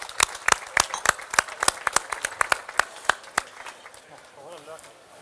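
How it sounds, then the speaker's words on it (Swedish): Sparse applause greets a chef after a heat of a Swedish cooking competition semifinal in Karlstad: a dozen or so distinct, crisp claps from a small group, thinning out and fading toward the end as a voice begins. "En applåd för Håkan Karlsson, kök nummer ett."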